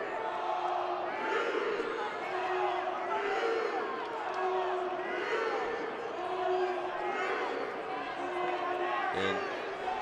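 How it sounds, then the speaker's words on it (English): Crowd at a Rutgers college wrestling dual meet chanting in loud, continuous rhythmic waves that swell and recede, with voices shouting over the whole stretch. "The crowd's getting pumped up here with an RU chant."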